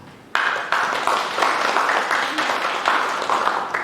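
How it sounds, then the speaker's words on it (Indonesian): Church congregation claps in a Sunday worship service, a dense sustained round of applause from a large crowd that starts abruptly and carries on evenly throughout. "beri tepuk tangan buat Tuhan"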